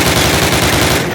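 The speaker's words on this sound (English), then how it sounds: "Fire 10 rounds at your target." Rapid automatic rifle fire in Call of Duty (2003), a tight, even string of loud, close shots aimed at a target, the rattle continuing unbroken for about a second before cutting off.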